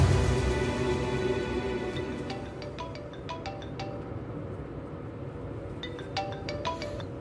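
A telephone ringtone plays a run of electronic melodic beeps in two bursts separated by a pause. The tones ring out clearly over a low background rumble.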